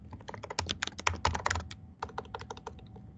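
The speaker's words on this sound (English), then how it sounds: "Typing too fast." Rapid typing on a computer keyboard, dense bursts of close, crisp key clicks with a brief pause near the middle before the tapping resumes.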